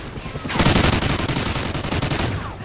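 A minigun roars in Call of Duty Vanguard, a dense, rapid, unbroken stream of gunfire that starts abruptly after a brief pause and holds loud and close for over two seconds.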